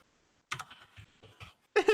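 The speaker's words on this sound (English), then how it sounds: "Starts typing." Fingers tap a computer keyboard in short clustered bursts of clicks, close and crisp with brief pauses between keystrokes, no voices.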